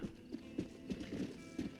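Horse hooves in the video game Red Dead Redemption plod in an uneven rhythm, soft and fairly close, each step a dull thump over a faint low hum, with no talking.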